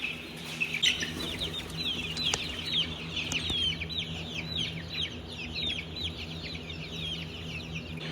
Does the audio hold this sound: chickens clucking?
yes